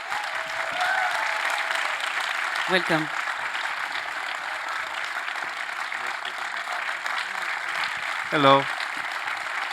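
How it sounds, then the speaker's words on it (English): An audience applauds steadily as a film director is welcomed onstage at a festival masterclass, sustained clapping throughout, with brief spoken greetings over it. "please welcome him with a very, very warm applause."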